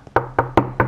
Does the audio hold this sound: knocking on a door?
yes